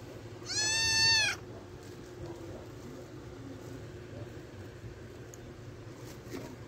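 A hungry stray cat gives one clear, fairly loud drawn-out meow near the start, followed by a quiet room with faint background noise.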